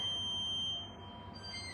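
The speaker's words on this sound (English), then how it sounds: "Wouldn't you believe it that my alarm's going off for my roasted carrots?" A kitchen timer alarm goes off for roasting carrots, a steady high electronic beep tone that holds fairly quietly and then shifts pitch slightly, with no talk over it.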